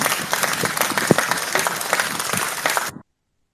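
Dense applause from an audience at a live Nigerian online gathering, steady and fairly loud for about three seconds before it cuts off abruptly.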